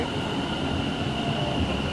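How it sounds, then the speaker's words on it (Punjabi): A train arriving at a station rumbles steadily and loudly throughout, a continuous low roar of rail cars with a faint high whine above it, no voices. "ਹੁਣ ਟ੍ਰੇਨ ਆ ਗਈ ਹੈ"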